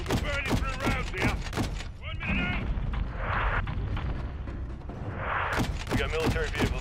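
Rapid gunfire and heavy blasts from the 2022 Call of Duty Modern Warfare 2 campaign, a loud, rhythmic burst of shots that pauses and then resumes, with booming impacts under radio-style voices.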